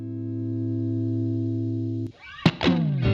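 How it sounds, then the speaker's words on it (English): A long, smooth, sustained electric guitar chord through a BOSS GX-1, with a compressor after the drive, rings out steadily, then a few bright driven notes are picked near the end. "move it after the drive to smooth out the overall sound"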